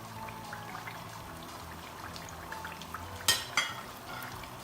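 Dry spices and a maggi cube drop into a stew frying in a pot, giving a soft sizzle with two sharp, bright scrapes or clinks near the end, close up.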